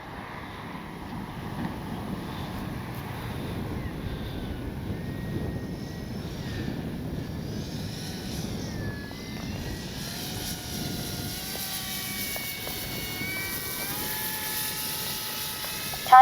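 An RC model F4U Corsair warbird flies overhead, its engine buzzing and whining at a moderate distance and shifting in pitch as it passes and maneuvers against faint outdoor background noise.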